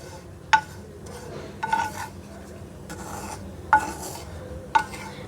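Grated coconut is stirred while roasting on a hot tawa, producing four distinct scraping rasps of a spatula against the pan, spaced about a second apart, over a quiet background.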